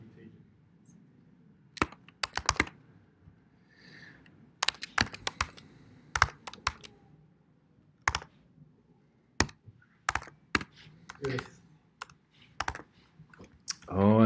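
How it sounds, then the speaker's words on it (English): Computer keyboard typing during a databases lesson on writing a query: irregular bursts of sharp, close key clicks separated by short pauses, with quiet background sound between the clusters. "Oh, I'm so bad at typing here today."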